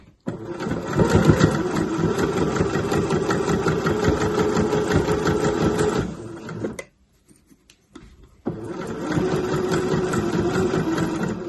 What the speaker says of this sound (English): With the needle firmly down, I lift the presser foot and swivel my fabric round and come along the bottom.